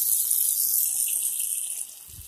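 Water runs from a kitchen or bathroom faucet in a steady, close hiss that stops abruptly near the end, leaving a faint low thump and no voices.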